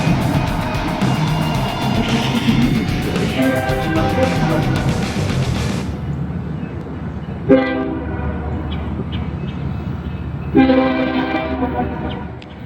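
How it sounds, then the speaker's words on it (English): A Norfolk Southern train approaches on Norfolk Southern tracks, its rumble steady throughout while the horn blasts in a long sustained sequence, then two shorter, separate blasts follow, loud and fairly near. "We got ourselves a train coming."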